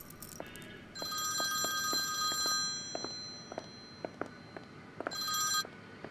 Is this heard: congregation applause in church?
no